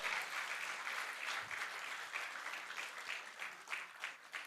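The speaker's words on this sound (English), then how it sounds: "Come on, let's hear a loud applause for Vishal" Steady applause fills the room at an annual business meeting as the audience claps for an honoree, a dense, continuous patter that carries on for several seconds at moderate distance.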